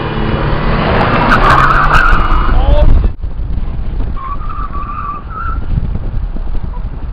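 An old Chevy's tires spin and squeal as it drifts in Forza 6, with a loud, close screech over roaring engine noise that cuts off abruptly and gives way to quieter, sustained tire chirps.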